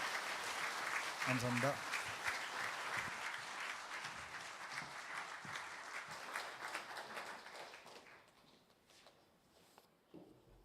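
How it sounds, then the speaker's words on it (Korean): Church audience at a Wednesday revival service giving warm applause, a dense sustained clapping that fades out toward the end, with a brief spoken voice near the start. "들어가실 때 뜨거운 박수로 환영해 주시기 바랍니다"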